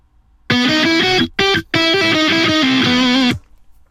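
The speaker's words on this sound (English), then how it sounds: "here's what the guitar sounds like without any of the main effects we'll be talking about." Dry lead guitar line from a metal track with no added effects, distorted and close, playing a fast phrase with two brief gaps before stopping abruptly.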